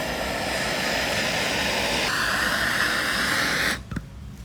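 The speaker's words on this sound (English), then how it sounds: "I got a torch, so we're just gonna heat this up a little." A torch roars steadily as it heats the Loctite on a firearm suppressor, a loud, close, continuous hiss that shifts slightly midway and then cuts off near the end.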